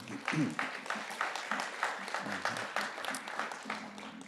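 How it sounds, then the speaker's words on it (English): A press-announcement audience applauds the 84th Magic City Classic, a dense patter of clapping with quieter swells, heard from a moderate distance and fairly faint. "That is something that is worthy of a round of applause."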